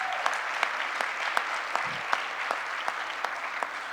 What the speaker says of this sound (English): I want to give a round of applause to our Southern Nevada Regional Housing Authority team as well